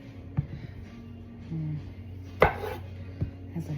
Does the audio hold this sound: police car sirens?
no